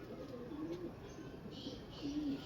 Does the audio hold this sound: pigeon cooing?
yes